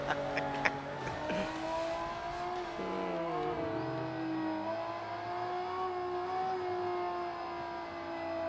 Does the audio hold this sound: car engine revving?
yes